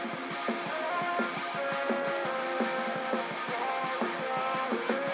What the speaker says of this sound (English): We get this like intro filtered rendition of the chorus